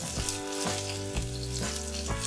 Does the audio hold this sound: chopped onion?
yes